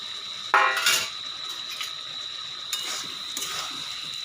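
Fried potatoes and ghati kochu (taro) are tipped into a pan of cooked spices, giving a sharp clattering clink of metal utensil on pan. A few lighter taps and scrapes follow over a faint steady background hum.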